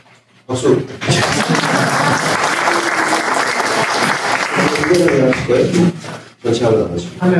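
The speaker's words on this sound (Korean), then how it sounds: "박수." An audience at a Korean lecture on Seoul redevelopment and reconstruction applauds a presenting architecture professor, with dense, sustained clapping for about six seconds before it fades out and a voice resumes.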